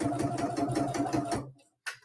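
A sewing machine stitching through faux leather for a luggage tag, running in a steady fast rhythmic chatter for about a second and a half before stopping, followed by a short click.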